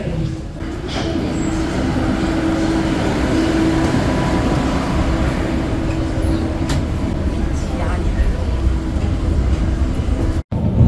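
Subway train at a station platform in China: a steady loud rumble of the train and platform machinery with a sustained tonal hum, a brief dropout near the end.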